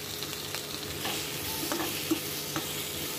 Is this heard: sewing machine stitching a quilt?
no